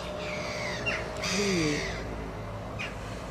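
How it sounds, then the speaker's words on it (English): Crows cawing repeatedly around a Dutch town in Leidschendam, several harsh calls close by over steady outdoor background noise, with no talk. "the birds are excited that you've both arrived"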